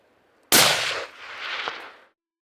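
A single loud rifle shot cracks out during a Kodiak brown bear hunt, its sharp broadband blast decaying into a long rolling echo across the open terrain.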